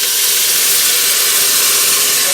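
Broth poured into a pan of onions that are just starting to brown, giving a loud, steady, close steamy hiss and sizzle with no talk over it.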